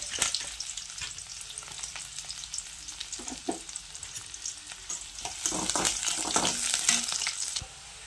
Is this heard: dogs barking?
no